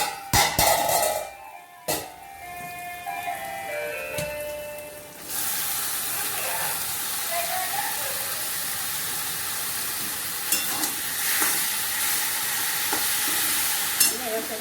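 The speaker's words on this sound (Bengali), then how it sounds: "পেঁয়াজগুলো ভাজা হয়ে গেছে" Onions fry in a pan with a steady sizzle after a few sharp clinks and knocks early on, with occasional stirring scrapes over the continuous hiss.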